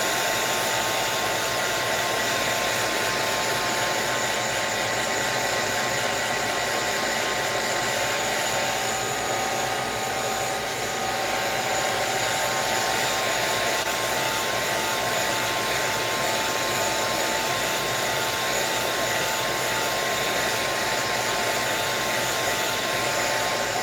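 A hair dryer blows on wet paint on an altered book page, giving a steady, close, continuous whirring roar that holds evenly for the whole stretch with no talking.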